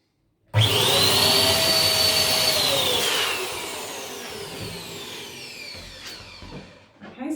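An electric inflator blowing up a balloon, starting abruptly and roaring loudly and steadily, its whine shifting in pitch as the balloon fills before the motor eases off near the end.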